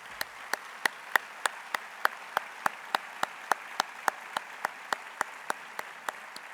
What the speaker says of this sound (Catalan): Sí, aplaudim molts.